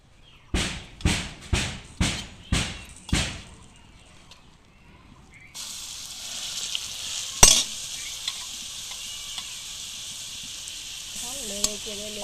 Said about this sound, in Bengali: লেড়ে চেড়ে একটু টানাইয়া নিব।